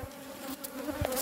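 A honeybee swarm in a Langstroth hive fitted with wax foundation frames makes a steady, close buzzing hum for a brief moment.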